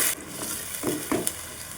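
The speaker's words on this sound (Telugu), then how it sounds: "ఉల్లిపాయ టమోటా పేస్ట్ వేసాం కదా, బాగా ఫ్రై చేసుకుందాం" Onion and tomato paste fries in oil for a fish curry, giving a soft steady sizzle with a few brief stirring scrapes, close but quiet.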